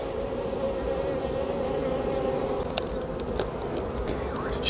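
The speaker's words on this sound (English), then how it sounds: "these bees are not happy with me either" Honey bees buzz around an open hive during re-queening, a steady droning hum close by with several sharp clicks and rustles as the hive is worked, no clear speech.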